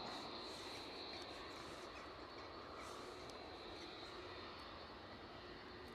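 An EasyJet Airbus A320-200 at Edinburgh Airport, departing for Nice, gives a steady, loud roar of jet engines with broadband rumble and a high whine, constant throughout with no talk.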